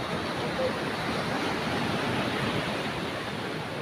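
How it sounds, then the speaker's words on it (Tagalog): Strong ocean surf crashes on a fishing shore as a constant roaring wash of broadband noise, loud and unbroken throughout, with wind blowing across the scene. "malakas ang alon"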